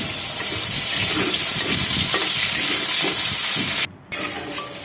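Potatoes frying slowly in oil over low heat, a loud continuous sizzle and hiss with light stirring scrapes, cutting out for a moment near the end before resuming.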